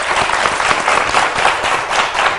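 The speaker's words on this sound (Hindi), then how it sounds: "ये देखे जी पलवशे के स्टाइल के लिए तालियां आने पहले" Dense, loud studio audience applause on a morning television show, continuous claps filling the whole stretch at an even level with no talk over it.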